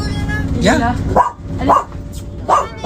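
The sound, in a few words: dog barking, a rescue dog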